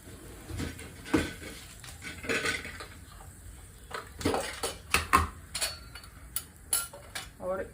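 A spoon mixes masala in a pan for a village-style fish curry, producing irregular metallic scrapes, taps and clinks against the pan, close and fairly quiet, with a faint sizzle beneath.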